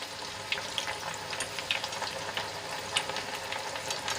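Chana dal fries in hot oil with a steady crackling sizzle, while a slotted spoon stirs it and lightly clinks against the pan at intervals.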